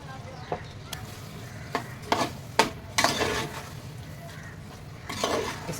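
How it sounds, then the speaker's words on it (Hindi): Vegetables for pav bhaji hit a hot pan and are stirred in, bringing a low sizzle broken by several sharp scrapes and clinks of a spoon against the pan, close and moderately loud, with some brief talking. "देखिए हम इसमें सब्ज़ी डाल रहे हैं।"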